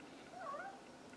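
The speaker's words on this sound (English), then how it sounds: "Sorry about my cat." A house cat gives a single short meow, faint and close by in a quiet indoor room, with no talking over it.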